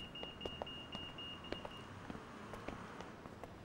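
In a French Teletubbies episode, a steady electronic tone sounds for a couple of seconds, then sharp repeated beeps tick out from a pedestrian crossing signal amid low traffic rumble.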